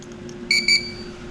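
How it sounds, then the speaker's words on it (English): A car's push-to-start system gives a short, bright double beep when the RFID chip is touched to it, close and clear over a faint background hum. "so we get the beep saying it's activated"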